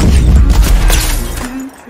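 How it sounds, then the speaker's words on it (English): A single heavy boom from a bolt-action sniper rifle in Fortnite, loud and close, with a rumbling tail that fades over about a second. "His bullet went straight for it to be a bolt sniper"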